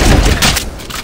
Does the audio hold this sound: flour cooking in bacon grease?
no